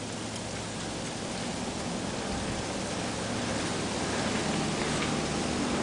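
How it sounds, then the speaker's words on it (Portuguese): Freezing rain falling steadily during a snowstorm, a constant dense hiss like fine rain pattering on surfaces, even and unbroken throughout with no voices. "mas tá caindo a chuva congelada."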